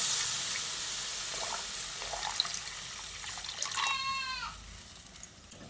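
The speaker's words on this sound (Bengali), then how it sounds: "আমি এখানে উষ্ণ গরম জলটা দিয়েছি" Warm water trickles and pours into a pan of sautéed potato and pointed gourd curry with spices, a steady close splashing flow that rises briefly near the end.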